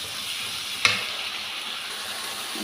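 Homemade noodles with vegetables sizzle steadily in a pan during stir-frying, with one sharp clink of a utensil early on.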